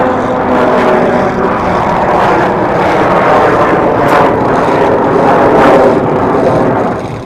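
A loud jet engine on a Waco biplane roars steadily and close during an aerobatic display, its pitch swelling and dipping slightly as the plane snap rolls and spins, with no voices.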